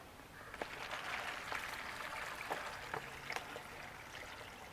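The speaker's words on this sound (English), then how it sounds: "the first thing we're going to do is fill up the bag itself" Clear water is poured into the bag of a Sawyer one-gallon gravity filter, giving a continuous soft trickling rush with a few faint knocks and splashes heard nearby.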